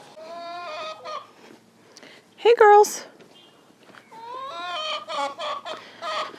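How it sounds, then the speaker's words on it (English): Backyard chickens let out a short burst of clucking close by, framed by someone talking to them before and after, with a few soft footsteps. "go bring those goodies to the chickens while that simmers away"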